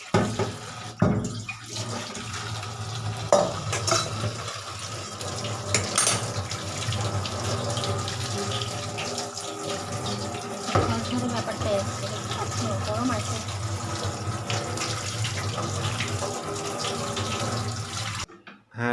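Cold tap water runs over boiled vegetable chow mein noodles in a perforated strainer plate, a steady close splashing stream with brief dish clatter.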